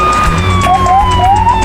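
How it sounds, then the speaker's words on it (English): Police sirens wail loudly outside, a steady rising and falling tone that fills the whole brief moment with no pauses. "loud sirens blared outside."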